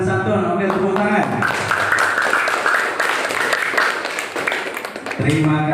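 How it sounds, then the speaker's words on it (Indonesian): A classroom group claps together in a steady burst of applause lasting a few seconds, bracketed by a teacher talking before and after. "Oke, tepuk tangan."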